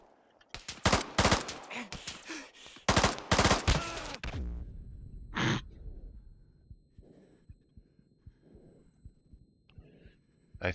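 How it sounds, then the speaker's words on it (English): Gunfire in the Antistasi game: several loud bursts of rapid automatic fire through the first four seconds, then quieter scattered distant shots and thuds, with a steady high electronic whine running underneath. "I feel like that was probably like a underbarrel grenade launcher."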